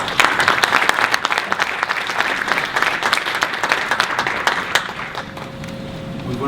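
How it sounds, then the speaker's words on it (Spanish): Steady audience applause at a conference presentation, dense and even clapping that carries on for several seconds before thinning slightly. "Vamos a partir entonces con Pablo Beitia, para el cual pido un aplauso"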